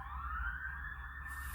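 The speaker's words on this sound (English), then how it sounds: "And we've got ambulances here." An emergency siren from an ambulance or fire engine, a single rising tone heard faint and distant over a low rumble, with no voices.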